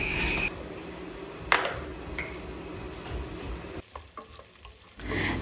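Chicken spiced with salt, pepper, chilli powder and turmeric frying in a pan, a close steady sizzle with a few sharp utensil knocks and a brief quieter gap near the end.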